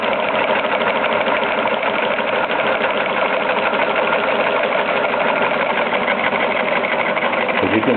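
Model Stirling engine running on heat, giving a steady, continuous mechanical whir with a fast rattling clatter that holds level throughout, close and fairly loud with no talk.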